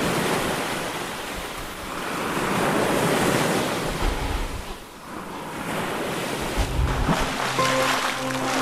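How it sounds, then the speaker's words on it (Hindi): Sea waves roll and break in a steady, loud surf roar mixed with wind rush, swelling and easing over several seconds, with a faint low tone entering near the end. "अगर समंदर की लहरें उसके ऊपर से होकर ना गुजरती"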